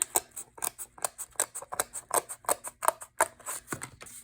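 Scissors cutting paper for a plaid Christmas card, a fast steady series of sharp snipping clicks, about four per second, close and crisp with no speech.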